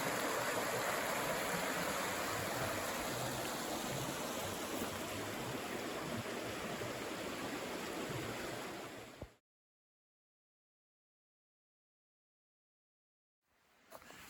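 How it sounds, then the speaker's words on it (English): A creek in the Laurel Falls wilderness area flows in a steady, full rush of water that holds at an even level, then cuts off abruptly into silence before faintly returning at the end. "Beautiful creek this morning"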